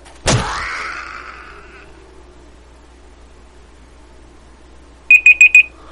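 A timer alarm in the video game 7 Days to Die gives four quick, bright electronic beeps near the end. Earlier comes a single sharp in-game impact that rings out and fades over quiet background.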